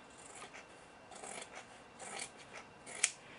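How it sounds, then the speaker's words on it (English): Scissors trimming excess fabric from a handmade clutch purse, a series of quiet, close snipping and rasping cuts in an irregular rhythm, ending with one sharper snip. "And now you want to trim the excess fabric."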